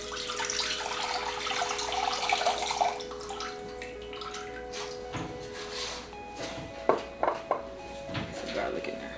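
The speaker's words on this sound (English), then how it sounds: "now I'm gonna pour all this liquid in here so we can mix it up." Pickling liquid for shrimp pours into a container with a steady splashing rush for a few seconds, then fades into light clinks and taps of utensils and dishes.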